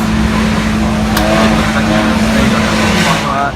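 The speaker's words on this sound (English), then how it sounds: "here we have a Dodge Viper 2016. It's a drift car" A 2016 Dodge Viper drift car sits close by with its engine holding a loud, steady drone that swells slightly toward the end.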